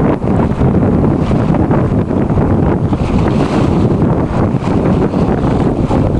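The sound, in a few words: wind at sea, about 12 knots, on a sailboat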